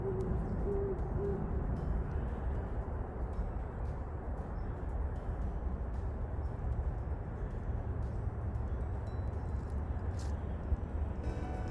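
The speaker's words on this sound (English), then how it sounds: "there's an owl hooting" Owl hooting at night in the woods near a trailhead on Bangert Island, a faint distant call over steady low rumbling ambience, with no talking.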